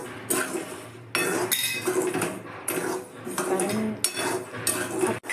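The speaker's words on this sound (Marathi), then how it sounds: "आता यात मी शेंगदाणे घालते आणि याला कंटिन्युअसली आपल्याला परतत राहायचं आहे." Peanuts stirred continuously in a hot pan with salt for roasting, giving steady scraping and clinking of the spoon against the metal in repeated bursts, close and fairly loud with no talk.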